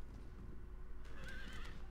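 Horses neigh and whinny on an Empire: Total War battlefield as they charge into and get stuck on defensive stakes, with hoofbeats in the background and a couple of clear whinnies rising in the second half.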